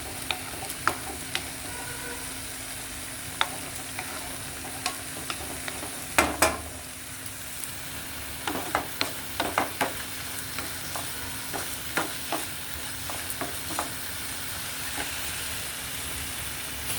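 Phool makhana (fox nuts) fry in hot oil with a steady sizzle, broken by occasional louder stirring scrapes and pops, and no one speaks.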